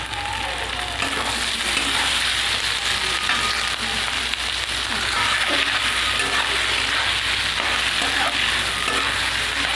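Carrots, capsicum, beans and cooked chicken stir-fry loudly in a pan for chow mein, a constant close sizzle broken by scraping and light clinks of stirring.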